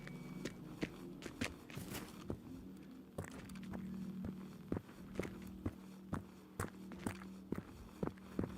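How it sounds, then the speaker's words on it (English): Footsteps crunch and thud in a steady pace through the video game Generation Zero, moderately close over a low ambient hum, with a few irregular heavier steps along the way. "You can hear the footsteps"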